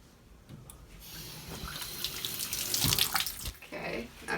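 Tap water runs steadily onto a silicone body scrubber, a close, continuous splashing hiss that builds gradually and wavers, with no talking.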